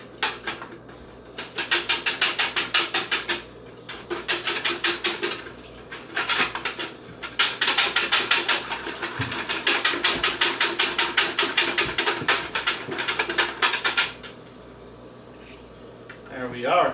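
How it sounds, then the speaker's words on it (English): Rapid rhythmic whisking of a quiche egg mixture with roasted garlic in a bowl, close and fairly loud, running in bursts with short pauses between them. "Just go ahead and give this a whisk here."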